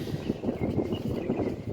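Gusty wind along the seaside on a late afternoon, a rough, fluttering low rush buffeting steadily with uneven surges and no clear voices.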